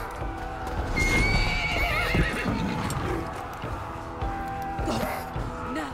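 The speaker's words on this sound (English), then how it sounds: "Yes, I will take the horse." A horse in the video game Assassin's Creed Valhalla neighs with a long whinny while its hooves clip-clop, heard over steady game sounds.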